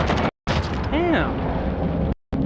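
Semtex grenade blast in a video game, a loud booming explosion with a whooshing swirl, punctuated by brief gaps, while a player speaks over the game audio.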